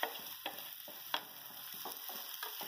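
Okra sizzles steadily in a pan with chili powder and salt for a yogurt-style dahi bhindi, soft frying crackle with a few sharp stirring clicks and scrapes over a faint, constant hiss.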